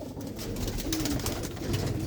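A loft full of well-bred pigeons and older hens keeps up throaty, overlapping cooing, close and steady, with no voices over it.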